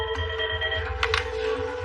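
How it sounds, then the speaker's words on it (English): A red telephone rings in the emergency department of a Barnsley hospital, giving a steady electronic tone that carries through the whole stretch at moderate level, with no talk over it. "The red phone is ringing again."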